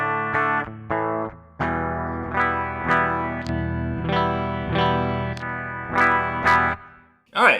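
A Charvel DK24 electric guitar runs through Line 6 Pod Farm software on a completely clean setting, strummed chords and single notes ringing out in a steady rhythm, each struck note decaying, with no voice.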